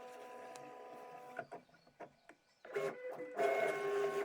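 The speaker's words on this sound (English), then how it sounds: "I'll just click start and away it goes on the Locklick cutting machine" A Locklick cutting machine cuts fabric pieces in a sewing room, with a droning, printer-like motor whir and a series of soft mechanical shuffles and surges that swell louder toward the end.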